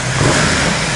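A Ducati XDiavel motorcycle revs loudly in an enclosed space, its dense, continuous engine roar echoing off the surrounding walls for about a second.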